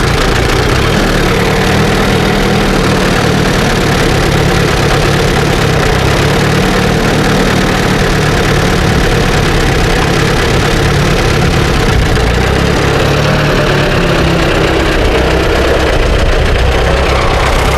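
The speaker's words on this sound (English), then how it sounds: "Great running little tractor." Loud, close tractor engine idling with a steady, rough low chugging that continues without a break throughout.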